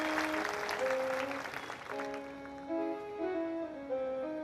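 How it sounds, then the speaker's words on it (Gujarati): An audience claps loudly at a live religious gathering telling the story of Lord Ram, the dense applause fading after a couple of seconds while sustained musical tones carry on underneath. "એના માટે પણ જોરદાર તાળી બજાવો"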